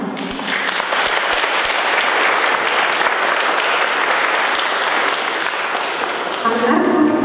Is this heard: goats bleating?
no